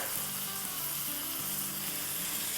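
Chopped tomatoes frying with salt in a pan give a dense, continuous sizzle that stays even and close for the whole stretch, with a faint tonal hum underneath.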